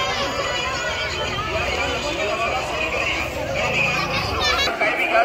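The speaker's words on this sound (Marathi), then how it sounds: "एक नंबर अशी गर्दी।" Busy crowd chatter drifts through the stalls of the Sai village jatra fair in Konkan during a palkhi procession, a dense murmur of many voices close around, with someone speaking over it.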